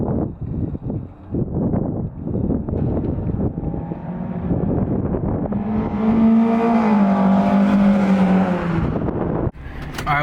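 A car fitted with an Invidia exhaust accelerates hard, its engine note rising loud and close from about six seconds, with steady rumble and wind buffeting before and a sudden drop near the end.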